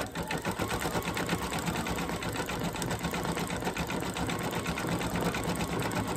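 An embroidery sewing machine stitching the eyes on a bunny treat holder, a loud rapid mechanical chatter running steadily and close throughout, alone without talking.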